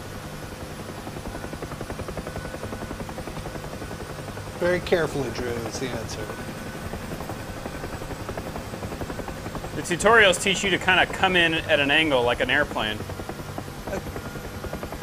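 UH-1H Huey helicopter in the Digital Combat Simulator game: a steady rotor and engine drone runs throughout, while someone talks over it in two bursts.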